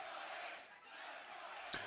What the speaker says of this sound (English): The fans almost in unison chanting, "Let's go, Ace."